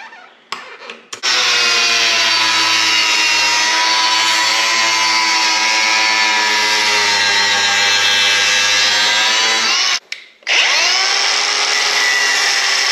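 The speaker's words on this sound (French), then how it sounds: "On va refaire une petite découpe propre" A power tool cuts into a xenon headlight housing with a loud, sustained high-pitched whine that holds steady for about nine seconds, then stops briefly and starts again.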